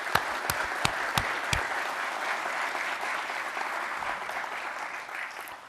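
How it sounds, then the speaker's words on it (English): A ceremony audience honoring military inductees' families breaks into sustained applause. A few sharp claps stand out at the start, then a steady, even roar of clapping runs throughout. "So, round of applause for the families."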